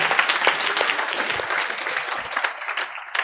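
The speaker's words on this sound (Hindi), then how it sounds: "एक बार जोरदार तालियां दानिश के लिए" Students in a law lecture class applaud loudly and briskly for a classmate, a dense burst of many hands clapping close and full, with a few sharper individual claps standing out.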